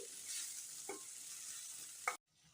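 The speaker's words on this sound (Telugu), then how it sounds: "ఇలా మంచిగా ఈ వేసిన పొడులు కలిసేలాగా కలుపుకోవాలండి" A spoon stirs spice powders into bitter gourd curry in a hot pan, giving a soft continuous sizzle broken by a few quiet scraping strokes before the sound cuts off abruptly.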